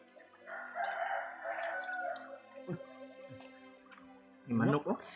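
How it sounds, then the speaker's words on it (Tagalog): A rooster crows at a distance, faint behind nearby people talking, with a louder close voice near the end. "Yung manok, oh."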